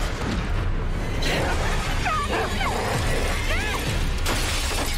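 A dog barks furiously in sharp, excited bursts in a video game, amid a loud, busy game soundscape, with whining, yelping tones and crashing noises throughout.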